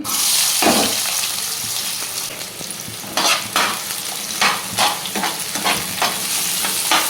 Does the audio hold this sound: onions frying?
yes